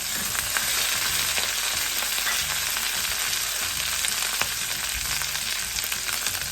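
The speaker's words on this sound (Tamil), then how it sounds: "பச்சை மிளகாயோடய சேர்த்து இந்த கழுவிருக்கிற இந்த மின்ட்டையும் மின்டிலையும் போட்டுக்கொள்வேன்" Green chillies and washed mint leaves sauté in a pan for a mint coriander chutney, giving a bright, steady hiss of frying with scattered sharp pops, close and even throughout over soft background music.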